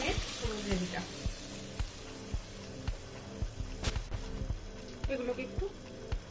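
Spices and vegetables sautéing in a pan for restaurant-style fish curry, a steady sizzle with repeated scraping stirs, close and moderately loud alongside talk.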